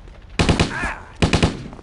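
Two loud bursts of rapid automatic gunfire from the zombie video game Stubbs the Zombie, each a dense rattle of shots, separated by a short pause.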